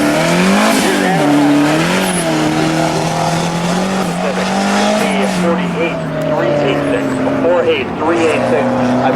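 A street mod class car races through an autocross course, engine revving and shifting with tire squeal, loud and continuous while a voice talks over it.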